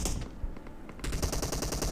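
Automatic gunfire in a shooting video game, an unbroken rattle of rapid shots that thins briefly, then returns louder and denser for the second half, close and punchy with no talking.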